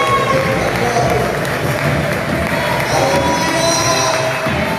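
A church congregation keeps up continuous rhythmic clapping in worship, close and full for the whole stretch, blended with murmuring voices and crowd noise.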